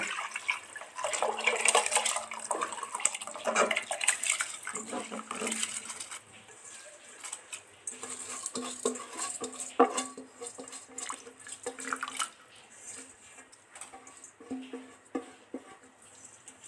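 Water is poured into soaked rice in a pot while making fish biryani, with splashing and dripping that comes and goes and clinks in between.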